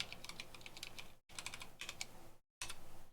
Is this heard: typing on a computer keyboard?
yes